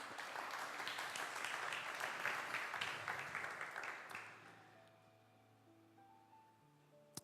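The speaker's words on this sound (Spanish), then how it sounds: "Aplauda su nombre en esta noche." A church congregation claps during a Spanish-language sermon, a loud burst of many hands that thins and fades after about four seconds into quiet room tone with a faint sustained tone.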